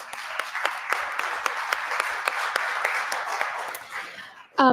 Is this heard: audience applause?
yes